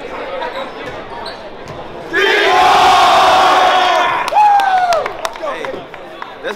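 A packed high school basketball gym at Helias versus Tolton Catholic erupts in a loud, sustained crowd roar about two seconds in, holding for several seconds before easing off, with voices and shouts mixed through.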